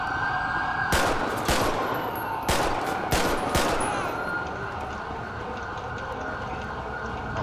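Bursts of rapid gunfire crack out repeatedly during a GTA5 police pursuit, loud and close, over a steady wailing police siren that carries on after the shooting stops.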